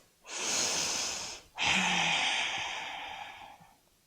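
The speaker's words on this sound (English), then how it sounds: "Breathe." Slow, deep breaths during a home yoga stretch: two long airy exhales, the second drawn out and gradually fading, close and clear with no talking.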